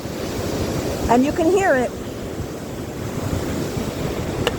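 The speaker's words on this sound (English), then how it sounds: "I'm going to slowly show you the waterfall. It's very windy here by the water" A Yosemite National Park waterfall roars in strong wind by the water, a loud, steady wash of noise that fills the whole moment while a voice speaks briefly over it.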